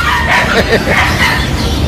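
Several dogs bark and yip close by at an early-morning outdoor pet market at the Grotto, where bully dogs and poodles are on sale; sharp overlapping barks fill the scene while people talk in the background.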